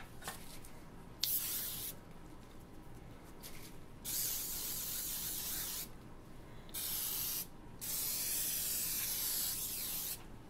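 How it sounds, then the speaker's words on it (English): A cooking spray can sprays in several bursts, a sharp, steady hiss lasting a second or two each, close and separated by short pauses. "Cooking spray."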